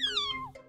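A single short, high cat meow from the video game Love Spell, clean and close, sliding downward in pitch and ending in a brief softer trailing note.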